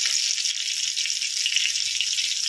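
Fish fries in oil on a dosa pan, giving a loud, close, continuous bright sizzle with no talking over it.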